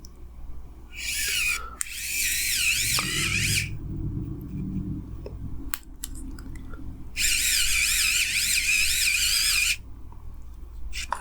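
Sequre SQ-ES126 smart electric screwdriver tightening a screw, two bursts of close high motor whine with a quieter lower drive hum between them.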